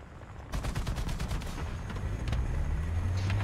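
Rapid .50 cal machine gun fire in the War Thunder naval combat game, a fast even burst of sharp repeated shots over a low engine rumble, loud and close, then a sustained roar.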